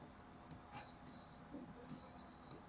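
Pen or marker writing during a math lesson on quadratic equations, a faint continuous scratching and rubbing of strokes over a low background hiss.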